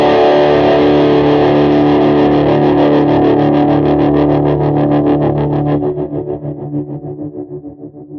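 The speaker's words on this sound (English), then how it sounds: "go from playing that big chord and turn it on the trem." A big distorted electric guitar chord from a song rings out, then a tremolo kicks in and chops it into fast, even pulses that fade into a trailing reverb tail.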